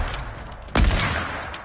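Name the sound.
gunfire in a shooter video game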